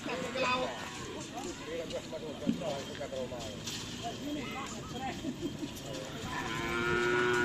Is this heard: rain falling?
no